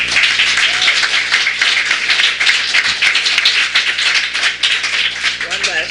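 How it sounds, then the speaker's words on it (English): A school candidates' event audience breaks into loud, sustained clapping and applause that fills the room steadily from start to finish, with voices mixed underneath. "Could I ask you please to hold your applause until the very end, okay?"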